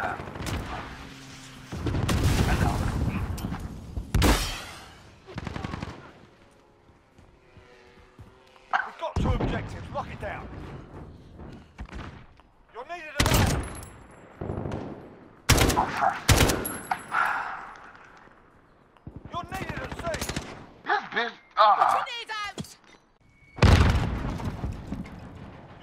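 Gunfire in the video game Call of Duty Modern Warfare, loud sharp shots and rapid bursts with booms in irregular clusters, interspersed with players talking.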